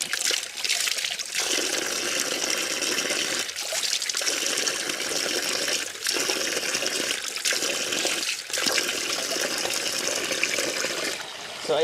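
Cold water pours steadily from a tap or spout on a mountain, a loud continuous splashing that breaks off briefly several times before resuming, with no voices over it.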